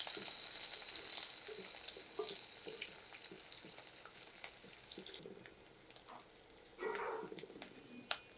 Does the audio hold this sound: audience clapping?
no